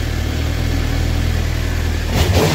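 A Suzuki GSXR750 motorcycle engine idling after a spark plug change, a loud, close, steady low throb with an even exhaust note, rising briefly near the end.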